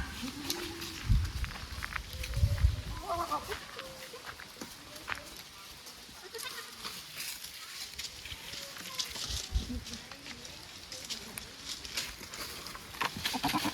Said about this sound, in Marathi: ती बकऱ्या आहेत ना